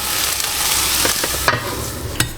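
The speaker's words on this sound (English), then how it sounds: "what I'm going to do now is I'm just going to pop them into the big pan with our onions" Softened carrots and peppers tipped into a big pan of frying onions, with a continuous sizzle broken by several sharp scraping stirs and clatters, the loudest near the middle and end.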